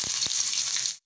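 Garlic and ginger fry in a karahi for chicken karahi, a loud steady close sizzle with a couple of brief knocks, cutting off abruptly near the end.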